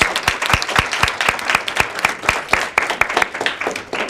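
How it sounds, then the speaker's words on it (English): A small audience at a mentoring program book signing applauds its interviewees, with close, distinct rhythmic claps standing out over a softer group clapping that stays steady throughout. "Let's applaud them again"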